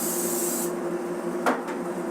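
Cooking spray hisses onto a flat-top grill before eggs are cooked, a steady close spray for about half a second followed by brief rubbing scrapes, over a constant kitchen hum.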